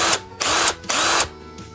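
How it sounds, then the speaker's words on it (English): A power drill with a brush locked into it, used for peeling potatoes, whirs loudly in a few short bursts, starting and stopping with brief pauses between runs. "you're gonna take your drill and you're gonna put your brush in your drill"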